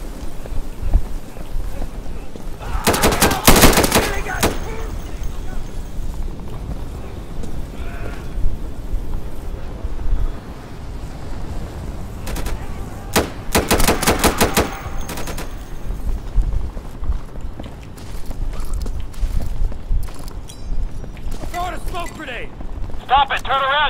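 Short bursts of automatic gunfire crackle in the video game Insurgency, two main volleys and scattered single shots amid ongoing shouting and talk, with steady background noise throughout.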